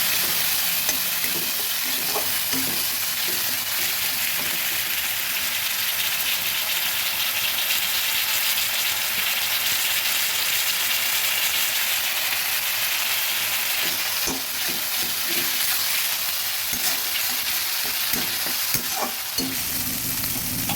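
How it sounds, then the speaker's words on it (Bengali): Ground spice paste sizzles and fries in a pan for a chickpea curry, a steady bright crackle throughout with occasional soft scrapes of a spoon stirring, close and fairly loud, no voices. "ভালো করে বাটা মশলাগুলো ভেজে নিয়েছি"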